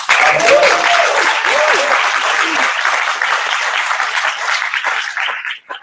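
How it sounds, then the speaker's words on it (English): A pitch-competition audience at the NYU-Yale Pitchoff bursts into loud, dense applause with a whoop or two early on, holding strong for several seconds before tapering off at the end. "let's give a big round of applause for Risa Cohn"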